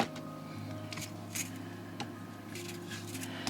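Old trimmers snip through beaded bracelet wire in a few faint, quick clicks over a low steady hum.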